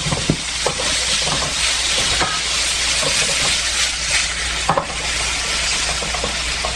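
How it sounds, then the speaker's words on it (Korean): Seasoned glass noodles stir-fry in oil in a pan, giving a dense continuous sizzle with scraping stirs and occasional sharp clatters, close and loud, no talk. "양념해 둔 당면 볶아줄게요"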